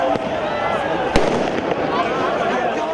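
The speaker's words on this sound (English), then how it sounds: "There were fireworks on the other side of Cairo, being thrown in anger." Fireworks crackle and pop during street clashes in Cairo, Egypt, with a sharp burst standing out over a dense, steady roar of crowd noise, and a voice talking over it.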